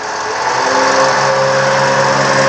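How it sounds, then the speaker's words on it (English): An engine throttles up to drive a PTO water pump, a loud, steady mechanical drone that rises slightly in the first half second and then holds a constant, even pitch with no talk over it. "So I'm going to kick on the PTO and the throttle and we'll see what we have."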